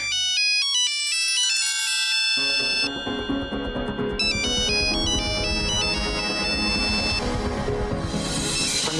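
A mobile phone ringtone plays a bright electronic melody of repeating tones, loud and close, continuing for several seconds with no talk over it.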